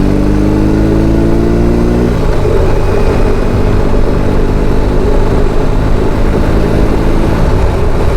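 A BMW R18 B bagger motorcycle accelerates onto a 110-zone freeway, its loud engine drone climbing steadily in pitch, dropping with a gear change after about two seconds, then climbing again under rushing wind.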